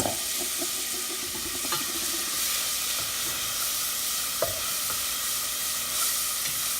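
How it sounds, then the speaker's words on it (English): Onions fry in a pan for a sauce, producing a soft, even sizzle with a couple of sharp utensil clinks and stirring noises close by. "Cook the onion for 1 minute."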